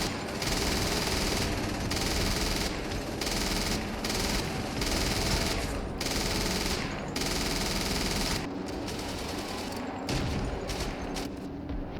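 Continuous rapid machine gun fire in a D-Day beach landing video game, loud and close, in long sustained bursts with brief gaps, layered with distant gunfire and explosions of a battle.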